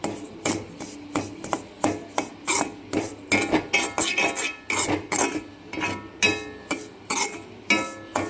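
Semolina (rava) roasting in an iron pan is stirred and scraped over low heat in a steady, rhythmic series of gritty metal rasps, close up and without speech.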